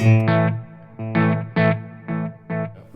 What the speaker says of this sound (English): let's put a bit of reverb in the mix now